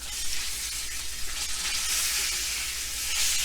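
A tomahawk beef ribeye steak sizzles steadily in a hot pan as it is flipped, a loud continuous fry hiss with small crackles and no talking.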